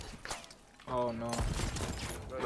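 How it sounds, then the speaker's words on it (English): Booming cannon blasts in Sea of Thieves ring out amid chaotic action, with a voice speaking over the burst of explosive sounds. "He's loading in our cannon, watch out."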